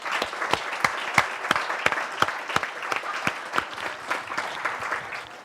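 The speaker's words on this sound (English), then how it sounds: "Let's all give them a big round of applause." Audience clapping after team presentations at a global case competition, a steady, dense round of applause with sharp individual claps standing out, fairly close and sustained throughout.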